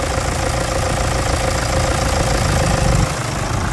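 A 2008 Toyota SW4 engine idles close by after a full overhaul, a steady, loud mechanical rumble with an even knocking texture throughout.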